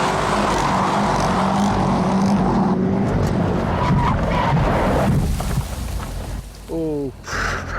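A car engine revs hard with traction control switched off, a rough rumbling roar with skidding tyres that fades toward the end, where a brief rising tone sounds and voices talk over it.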